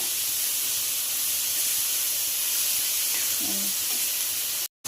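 Prawns roast in a pan over a high gas flame, giving a loud, steady, bright hiss and sizzle throughout, with a faint tap near the end before it cuts off.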